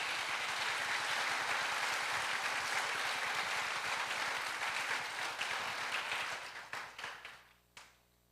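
A church congregation breaks into strong, sustained applause during a sermon, a thick wash of clapping that thins over the last seconds into a few scattered claps before fading out.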